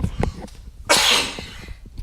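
One abrupt, harsh cough up close, breathy and rough, amid faint background noise.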